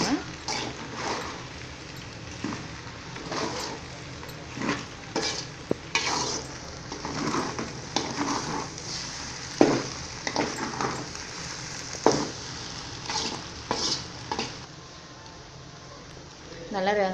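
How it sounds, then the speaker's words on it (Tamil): Egg noodles being stirred and tossed in a pan make a steady sizzle with repeated scraping and clinking strokes at an uneven rhythm, close by and moderately quiet. "இப்போ நல்லா கலந்து விட்டுக்கோங்க."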